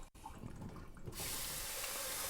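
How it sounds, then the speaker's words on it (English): Water runs from a kitchen tap into a pot, a steady rushing stream that grows louder and brighter as the flow opens up, with no talking. "I guess I had to fill the pot up."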